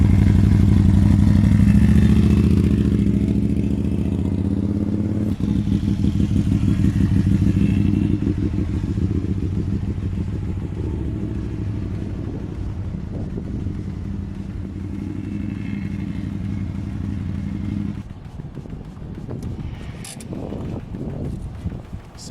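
A Can-Am Spyder three-wheeled motorcycle rides along with a steady engine drone and rumble, shifting tone partway through and easing off near the end with some clatter, close and fairly loud.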